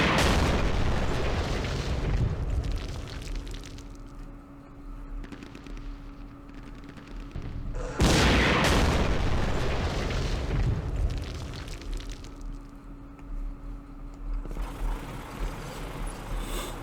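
Two heavy RPG blasts from a Vietnam War strategy game set during Lam Son 719, each a loud booming explosion with a long rumbling decay, the second following about eight seconds after the first.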